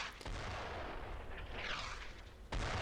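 Gunfire in the World War II shooter Brothers in Arms: Road to Hill 30, with sharp shots and rumbling bursts over continuous battle noise, loud and close, without speech.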